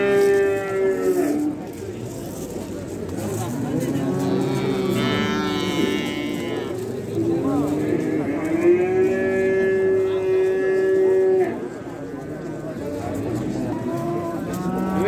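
Cattle at a livestock market give long, loud, drawn-out moos one after another, close by, over crowd chatter and people talking in the background.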